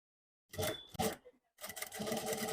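A sewing machine fitted with a single foot stitches potli buttons onto a neckline. It runs in two short close bursts, then a longer steady whirring run, with no talk.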